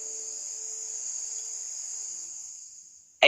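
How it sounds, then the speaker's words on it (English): Crickets chirp at night in a steady high continuous trill, close and fairly clear, fading slightly before a sudden sharp click at the end. "Then we fall asleep to the sounds of crickets, much more relaxing than the sound of goannas in the grass."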